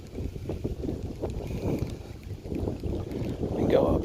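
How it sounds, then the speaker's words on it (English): Wind gusts across an open riverbank during smallmouth bass fishing, making a steady, buffeting rumble against the microphone that swells and eases over a few seconds, with no voices. "Boy, is it windy."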